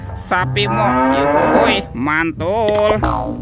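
A toy cow gives a loud, drawn-out moo up close, followed by shorter lowing calls, with a person speaking briefly alongside.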